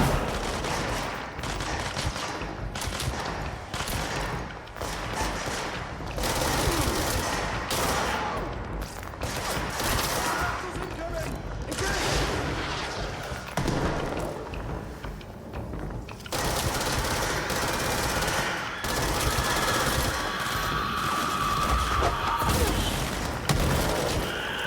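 Dense gunfire and machine-gun bursts in the video game Control, rattling on for the whole stretch at steady high volume, with overlapping shots and no voices.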